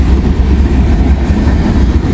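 Old Conrail freight cars roll past close by with a loud, continuous low rumble and rattling wheel noise on the rails, in rural farm country.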